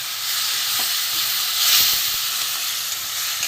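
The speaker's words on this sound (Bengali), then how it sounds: "গ্যাসটা কমিয়েই ভাজবো, কষবো, কেননা মশলাটা পুড়ে যেতে পারে।" Dry spices fry over low gas in a pan as the base for a fish curry. A soft, continuous sizzle and hiss holds steady the whole time, close by and fairly quiet, with no talking.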